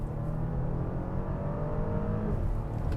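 A 2024 Porsche Cayenne engine revs up steadily toward red line inside the cabin, a rising droning tone that drops abruptly at the gear shift near the end; no voices.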